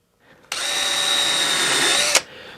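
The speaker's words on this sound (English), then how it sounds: "I always say it's always good to pre-drill it a little bit" A power drill pre-drilling screw holes in wood whirs steadily for under two seconds, then winds down with a short final squeal; no voices, close and loud.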